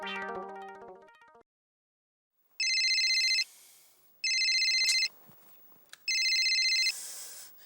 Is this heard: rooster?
no